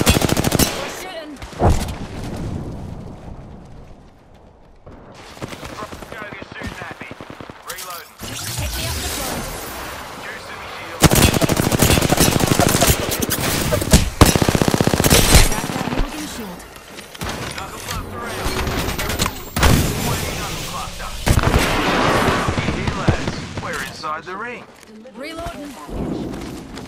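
Gunfire in the battle royale game Apex Legends crackles in repeated bursts and rapid automatic volleys, loud and close, with short pauses between clusters and voices speaking over the action.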